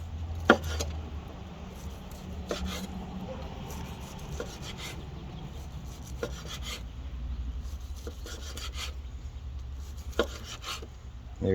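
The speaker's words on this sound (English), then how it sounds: "if you let it rest properly and you slice it nice and thin like so" A knife slicing a grilled, rested top sirloin steak into thin strips, with soft repeated cuts and scrapes and occasional sharp taps on the board, close and fairly quiet.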